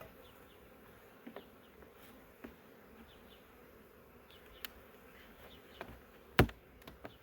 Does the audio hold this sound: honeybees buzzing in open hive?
yes